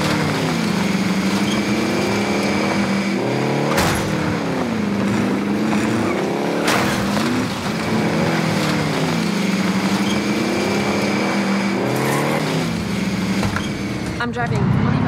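A car engine in Call of Duty Warzone drones steadily and loudly throughout, revving up and down with a few sharp bumps, while game voice lines sound over it.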